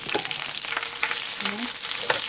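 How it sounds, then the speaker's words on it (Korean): Green onions laid into a pan generously oiled for Dongnae pajeon, frying with a steady, close sizzle and crackle and a few small scraping sounds. "팬에 기름을 넉넉히 누르고 파를 얹어줍니다."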